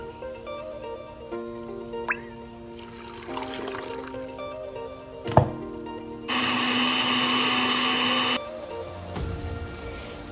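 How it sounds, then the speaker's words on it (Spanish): A blender whirs loudly for a couple of seconds, steady and close, blending tomatoes, onion and garlic with a little water, with clinks and kitchen handling noises before and after. "En una licuadora colocaremos los jitomates, la cebolla y el ajo con un poquito de agua y lo licuaremos"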